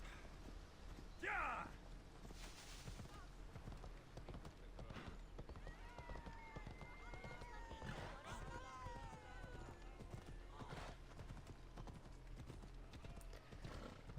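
Phobos, a horse in Assassin's Creed Odyssey, gallops with a steady run of hoof clip-clops and a brief whinny near the start, set against continuous game ambience while someone talks over it.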